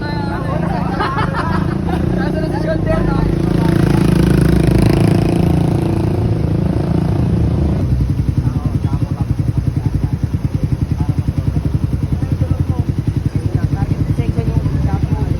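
An R150 street motorcycle running steadily through cornering practice, its engine a loud continuous drone that shifts into a fast, pulsing putter partway through, with people talking over it.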